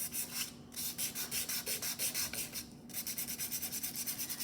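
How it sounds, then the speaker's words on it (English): Fine-grit sandpaper rubs in quick, even back-and-forth strokes across the back of a plastic Shrinky Dinks piece, soft and close, with a couple of brief pauses. "I'm just gonna do a little sanding on the back to make it roughed up a little bit."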